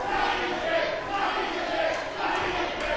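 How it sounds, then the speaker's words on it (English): A Stampede Wrestling crowd chants a wrestler's name in unison, a loud, continuous, rhythmic roar of many voices filling the arena. "Crowd trying to get behind TJ Wilson, chanting his name right now"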